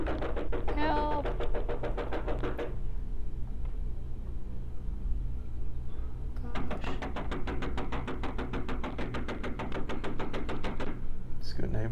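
Knocking on the front door of a neighbour's house while the house next door is on fire, sounding as two bursts of rapid raps, roughly a dozen each, with steady background noise and talk over it.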